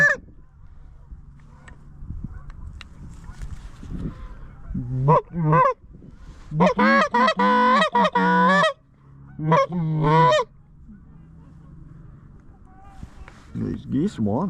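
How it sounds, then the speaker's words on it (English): Geese honk repeatedly over waterfowl decoys during a November sneak-boat hunt, in bursts of loud, nasal calls that are close and clustered, separated by quieter stretches. "These geese want it. Just come in and land, dude."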